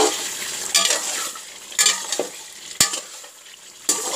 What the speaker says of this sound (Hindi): इसको अच्छी तरह भूनेंगे।